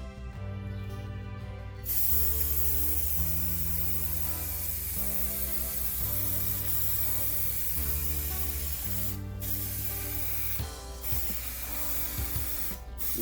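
An automotive paint spray gun spraying a bumper, with a steady close hiss running nearly throughout. Beneath it a mechanical hum shifts pitch in steps, and brief breaks in the spray appear late on.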